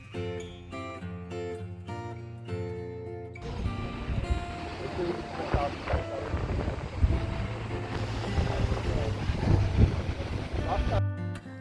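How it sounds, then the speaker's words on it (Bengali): On a deserted English street at Christmas Eve, rough gusting wind buffets the microphone amid rain, rising and falling in loud bursts, with a person talking over it. "আর বৃষ্টি মানেই তো এখানে দমকা হাওয়া, হাওয়াও হচ্ছে সেই রকম।"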